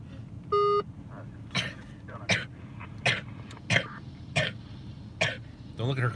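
Several sharp coughs or throat-clearing bursts repeat in an uneven rhythm over a low background hum, with a brief electronic beep near the start.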